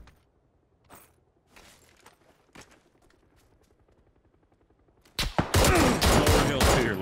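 In the video game PUBG, a few scattered distant gunshots pop over quiet ambience, then a loud burst of rapid close-range automatic gunfire erupts and continues to the end.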